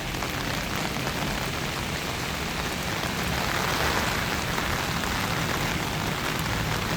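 Heavy tropical thunderstorm rain pours down over buildings in the Philippines, a dense, constant roar of rainfall that holds steady throughout with no voices.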